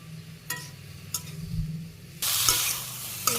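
Spices with salt, turmeric and chili powder being stirred and sautéed with tomatoes in a pan, a soft scraping stir and low sizzle giving way to a louder, steady frying hiss with a few sharp clinks.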